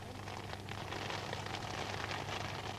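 Steady, dense rain hisses over an outdoor maze in Worcester, a continuous broadband wash at even loudness throughout, with no voices heard.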